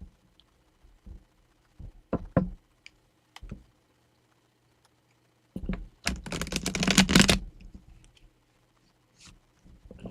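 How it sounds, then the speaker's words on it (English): Tarot cards being shuffled by hand during a live reading: a few sharp riffling clicks, then a dense, loud burst of rapid flutter lasting over a second, with short quieter taps afterward and no talk. "I don't know why these cards don't want to shuffle for me right now."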